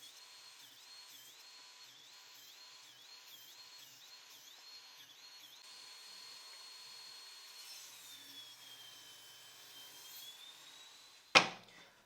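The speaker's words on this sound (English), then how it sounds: "On the table saw, again, I'll cut each of these pieces into 2 parts, each 3 centimeters wide." A table saw rips wood pieces into 3-centimeter-wide strips, giving a faint, steady high whine that shifts pitch as the cut goes on and ends in a sharp knock near the close.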